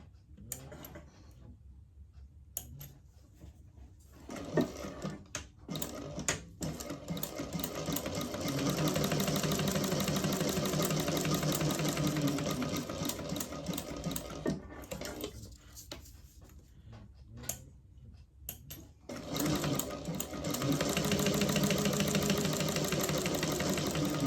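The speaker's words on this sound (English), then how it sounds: "I've top stitched down both sides" Sewing machine topstitching fabric, running in long steady bursts of rapid mechanical whirring up close, separated by short pauses and scattered small clicks, with no talk.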